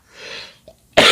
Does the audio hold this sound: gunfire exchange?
no